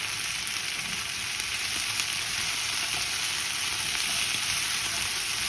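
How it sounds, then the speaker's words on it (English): Brussels sprouts searing in a hot pan, a steady close-up sizzle and crackle that holds evenly throughout with no talking. "We're going to just sear this."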